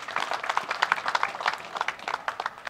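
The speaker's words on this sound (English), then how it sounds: "can we give another resounding round of applause for that well-worded vote of thanks" Applause from an audience at a Nigerian army donation ceremony in The Gambia, following a vote of thanks; dense, steady clapping sustained throughout at moderate volume.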